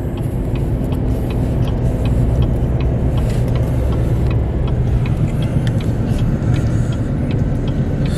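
A car driving up a mountain road in Arizona, with a steady engine and road rumble and faint ticking on top, no talk.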